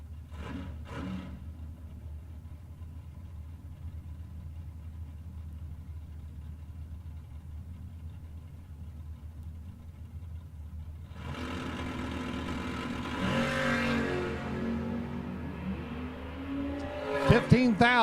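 Race cars at an old-time drag race idle low and rumbling, then a loud engine roar swells at the launch and builds to the end, with an announcer talking over the scene.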